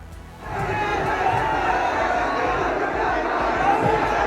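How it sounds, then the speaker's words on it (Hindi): Huge crowd of thousands of young people chanting Rahul's name at a rally in Kota, a dense, loud roar of massed voices swelling in after a brief pause and holding steady throughout. "हजारों की संख्या में युवाओं की भीड़ और जुबां पर सिर्फ राहुल राहुल के नारे"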